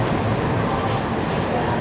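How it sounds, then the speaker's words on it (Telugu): A train pulls in to a platform at Amritsar railway station, a dense, continuous rumble filling the whole brief moment, loud and steady. "ప్లాట్ఫామ్ నెంబర్ 2లోకి అయితే అవుటర్ నుంచి ఏదో ట్రైన్ వస్తుంది"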